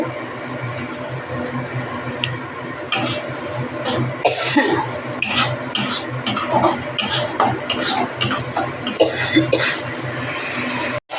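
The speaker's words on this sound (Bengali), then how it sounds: "এবার আমি আর একটু ভালো করে কষাবো" Moong lentils and pointed gourd are stir-fried in a pan with Kashmiri red chili powder, the spatula scraping and clattering in repeated bursts over a low sizzle, close by, with a brief throat sound along the way.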